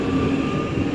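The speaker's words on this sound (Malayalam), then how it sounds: "33 ട്രെയിനായിരുന്നു, അത് പോയി." A train passes through a station in Germany, a steady, loud rumble of rolling rail cars filling the whole second, close by and without voices.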